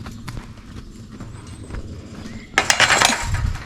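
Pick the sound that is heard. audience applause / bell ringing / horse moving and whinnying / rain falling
horse moving and whinnying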